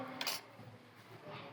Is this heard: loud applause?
no